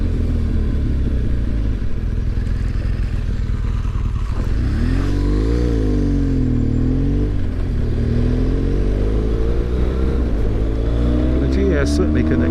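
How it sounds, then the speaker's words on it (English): A BMW R1200GS Rallye motorcycle accelerates on a road tour, its engine note rising and falling through the gears amid loud wind rush, with a rider talking over it. "The GS certainly can accelerate well if you open it up"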